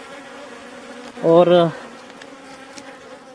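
Apis cerana indica honey bees at a hive box in Himachal Pradesh, India, with one loud, close buzzing pass rising out of a low hum of many bees, while a voice speaks briefly.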